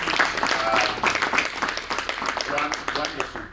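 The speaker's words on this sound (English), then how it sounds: "Let's give these guys a round of applause." A conference crowd at Zimbabwe's Ideas Festival 2023 claps for a startup ecosystem panel, a sustained burst of many hands, fairly loud and busy, with voices talking over it.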